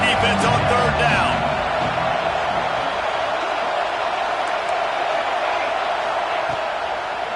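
Stadium crowd at a football game on a third-down defensive stand, a loud, steady roar of many voices filling the whole stretch, slightly fuller at the start and holding level without a break.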